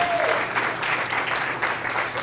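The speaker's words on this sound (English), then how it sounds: "Please give her a round of applause." An audience at a community meeting gives a round of applause, dense, steady clapping from many hands close by, with a faint voice briefly at the start.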